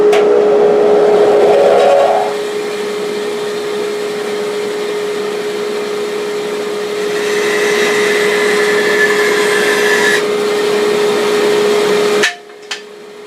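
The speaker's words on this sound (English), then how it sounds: "Turn on my dust collector." A workshop dust collector runs as a steady loud drone with a constant hum, while a bandsaw cuts through wood for a spatula blank, its cutting noise rising for several seconds before the machines stop near the end.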